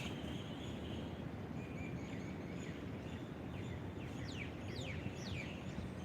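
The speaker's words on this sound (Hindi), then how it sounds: "पक्षियों की मधुर आवाज़" Birds sing and chirp over a constant outdoor hiss, with scattered short whistled calls and quick descending tweets from a few birds at a moderate distance, fairly faint against the background.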